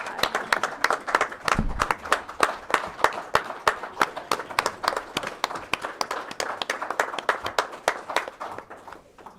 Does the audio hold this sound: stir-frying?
no